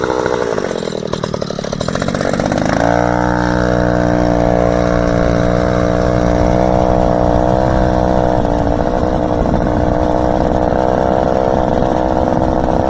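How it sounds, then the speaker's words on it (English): A vehicle engine is started and left running to warm back up to normal operating temperature. After a brief cranking sputter, a steady, close, loud idle continues with a constant buzzing drone, and no talking over it. "I gotta let the engine get back to its normal operating temperature"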